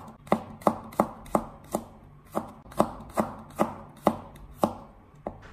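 A kitchen knife slices garlic cloves into thin slices on a cutting board, making about a dozen crisp, evenly spaced chops that are close and clear, with no talking.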